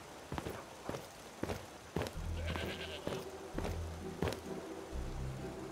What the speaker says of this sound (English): Bloody love goats.